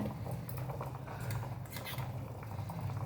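Kudumulu dumplings cooking in a covered pot, a steady low bubbling simmer with faint ticking and rattling of the lid, continuous and close throughout.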